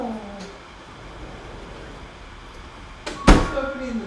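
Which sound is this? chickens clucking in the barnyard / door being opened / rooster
door being opened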